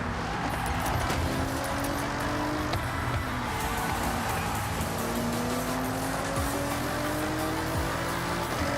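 A fast car in the Forza Horizon 6 racing game drives with a continuous engine roar, its pitch climbing and dropping through gear shifts, with faint tire noise and no talk.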